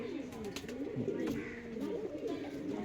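A pigeon, a black-speckled fancy breed kept at home, coos softly in low rolling phrases, fairly close and alone against faint background noise.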